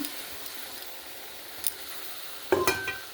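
Cashew and poppy seed paste goes into spice masala frying in a pan for a Bengali cabbage dish. A faint, steady sizzle runs throughout, then a sharp metallic clink and scrape of a utensil near the end.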